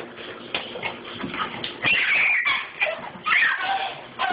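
Dog whimpering and giving short yelps indoors, close by, with a few sharp higher cries among soft whines, under background household noise and faint talk.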